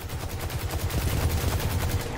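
Sustained automatic weapon fire in the sci-fi shooter Destiny 2, a fast unbroken stream of loud close shots over a couple of seconds, with no voices.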